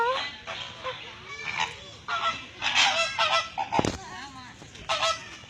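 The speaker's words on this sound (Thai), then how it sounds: "ห่านเลยเนาะแบบร้องเหมือนห่าน" Flamingos at a zoo giving goose-like honks: a run of harsh, nasal calls, loud and close, coming in uneven bursts over several seconds.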